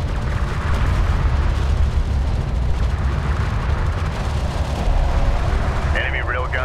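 Railgun and artillery fire from a battle in Homeworld: Deserts of Kharak, a dense, loud barrage of deep booming blasts rolling continuously, with a brief radio-style voice near the end.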